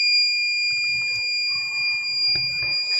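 A steady, high-pitched seatbelt warning alarm sounds continuously, with faint low rumbling and clatter beneath it.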